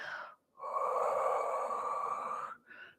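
Long, steady breath exhaled during a Pilates exercise, a close, airy hiss lasting about two seconds, framed by shorter breaths before and after, with no talking.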